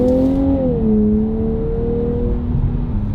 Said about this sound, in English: Those gear changes are so smooth.